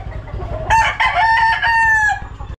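Farm chickens clucking close by while a rooster crows loudly, a drawn-out cock-a-doodle-doo rising over the hens' steady clucks.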